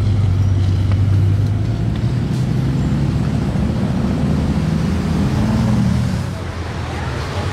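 A Bugatti Mistral moves through congested Monaco traffic, a steady low engine and road rumble that holds loud for several seconds before easing slightly near the end.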